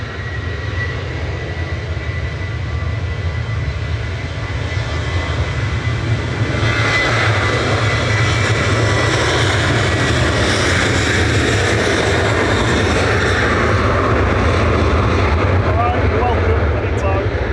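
A Boeing 737-800 jet at Manchester Airport roars steadily with deep low rumble and rising broadband engine noise midway, loud and sustained, while a person talks over it.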